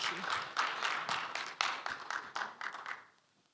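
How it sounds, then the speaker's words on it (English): Audience at a medical scientific conference applauding with scattered, moderate clapping that thins out and fades to quiet within a few seconds. "Give him a round of applause."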